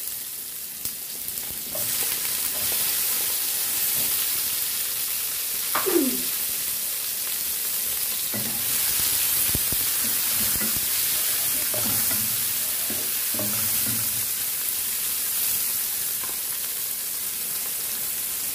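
Tomatoes sauté in a pan with onion and garlic: a soft, steady sizzle broken by a series of spatula scrapes and stirring knocks, with a faint bird call early on.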